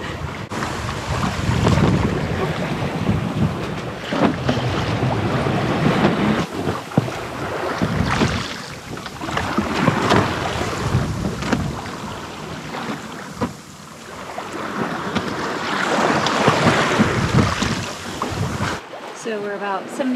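A sailboat underway in Atlantic waves about 50 nautical miles offshore, its mainsail held by a preventer. Loud, gusting wind rushes across the microphone over the constant wash of water against the hull, surging and easing in waves.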